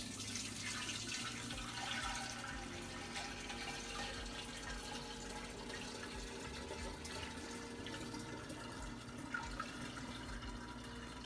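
Homemade kombucha is poured into a container, giving a quiet, continuous trickling and splashing of liquid at low volume with faint background noise and no speech.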